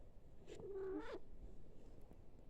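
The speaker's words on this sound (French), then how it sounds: "Ça, c'est un chat très curieux." A cat gives a short, close, wavering meow that rises and falls, against a faint hum of room noise, with no purring clearly heard.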